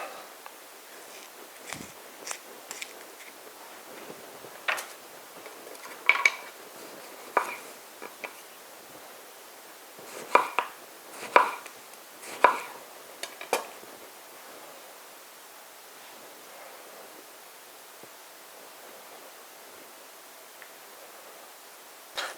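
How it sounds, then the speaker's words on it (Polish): A knife cuts a piece of tomato on a quiet kitchen surface, making scattered soft taps and slicing clicks in irregular bursts, with several sharper strokes clustered in the middle. No one speaks. "Jeszcze kawałek pomidora sobie dokroję"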